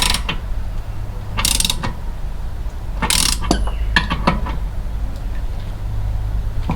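A socket ratchet tightens a water heater anode rod, giving a few short bursts of clicking pawl sounds over a steady low hum, close and clear.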